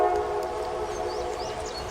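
A freight train passing through the Ozarks blows a steady, droning horn at a distance, faint but continuous over soft outdoor background.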